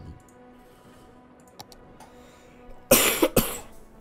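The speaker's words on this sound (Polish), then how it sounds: "Kurde, mój kaszel normalnie." A single close cough bursts out near the end after quiet ambient noise and faint clicks, with a brief second cough-like burst following.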